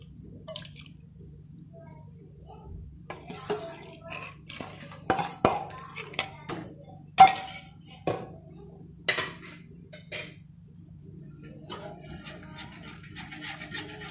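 A spoon stirs a thick chocolate milk drink in a pot, scraping and clinking against the metal in irregular, close taps and rattles over a low steady hum, with no voices.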